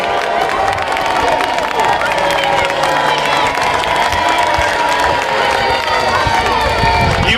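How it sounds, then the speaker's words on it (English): A crowd at a Roman gladiator demonstration in Priory Park, Chichester, cheers, shouts and claps steadily throughout, with a voice talking over the noise. "take a walk around the arena, take in the cheers, take in the boos"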